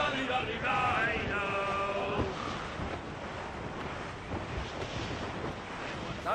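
Wind and ocean waves at sea in the video game Assassin's Creed Rogue: a loud, steady roar of wind and surf, with a voice singing over the first two seconds before the rush carries on alone.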